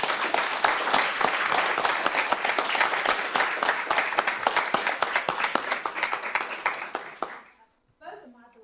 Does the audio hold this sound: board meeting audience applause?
yes